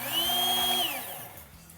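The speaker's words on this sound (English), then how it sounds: "operate the grinder" A Gaggia Anima espresso machine's built-in coffee grinder motor whirs with a steady high tone for under a second, then spins down and trails off into quiet.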